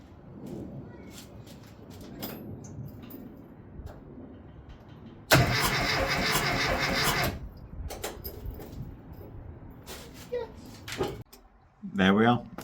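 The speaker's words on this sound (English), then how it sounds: "The car now turns over on the key." A classic Mini's engine turned on the key: a loud burst of cranking and catching that runs for about two seconds amid quieter workshop clicks, rustles and handling noises, followed by a few sharp knocks.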